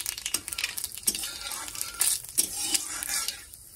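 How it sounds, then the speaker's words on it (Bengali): Nigella seeds fry in hot white oil in a wok, giving a crackling sizzle punctuated by several sharp spatula scrapes and taps against the pan, close and fairly loud. "তারপর দিয়ে দেবো একটু কালো জিরে। কালো জিরেটা ভাজা হয়ে গেলে"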